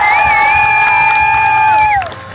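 Live crowd at an Extreme Duudsonit stunt show cheering and whooping loudly, with sustained shouted voices held for about two seconds before fading out.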